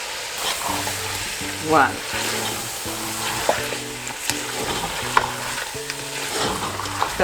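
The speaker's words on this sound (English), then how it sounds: "So this is the onion you're going to add, and we're going to mix it up." Onion being stirred into a simmering oxtail curry stew in a pot, a continuous sizzle with scraping utensil strokes, and a brief exclaimed voice partway through.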